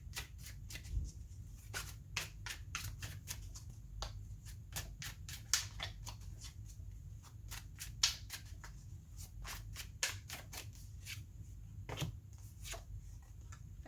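Tarot cards shuffled and handled by hand in a quiet room, giving a run of crisp, close flicks and riffles in irregular bursts, with soft slaps as cards are pulled.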